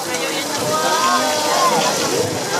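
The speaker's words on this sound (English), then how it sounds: "And it is raining" Dense, steady patter of rain close by at night at Universal Studios Hollywood, a continuous hiss with faint voices mixed underneath.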